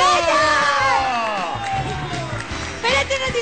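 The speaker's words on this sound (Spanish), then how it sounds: "¡Un aplauso para Giraldo!" Audience cheering and shouting, including children's voices, for a contestant on a kids' talent show, with loud whoops and clapping in a lively, sustained burst.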